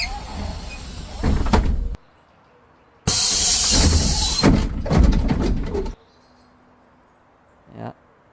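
Bus doors opening and closing in two bursts, each a loud pneumatic hiss and mechanical slide ending in an abrupt thud, separated by quiet pauses, with a brief softer clunk near the end.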